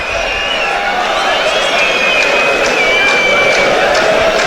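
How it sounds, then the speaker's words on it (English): Football crowd at a Euro 2024 qualifier between Latvia and Wales, a broad roar of displeasure and whistling after a foul, steady and dense throughout, with a commentator speaking over it. "Crowd aren't happy."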